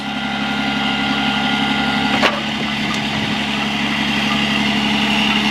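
A truck-mounted crane on a 2008 Freightliner M2 106 runs with a steady, close engine idle and a continuous mechanical drone, marked by one sharp knock partway through and no talking.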